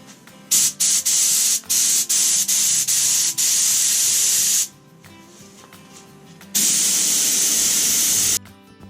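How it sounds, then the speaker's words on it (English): A paint spray gun coats a thrifted coffee table with a run of short, sharp hissing bursts, then two long steady sprays separated by a brief pause, close and loud. "I've got my paint gun loaded up"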